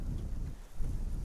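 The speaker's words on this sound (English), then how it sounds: "got like 50 mile per hour gusts of wind" Strong wind gusting up to 50 mph rumbles low and steady across an open snowy hunting field with decoys set out, filling the short stretch without any voices.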